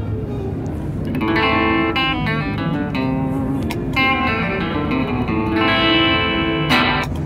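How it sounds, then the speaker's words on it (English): A distorted electric guitar runs through the hall reverb of an Electro-Harmonix Holy Grail Max pedal, playing steady chords and picked notes with a broad, lingering ambience, loud and continuous throughout. "It has hall reverb."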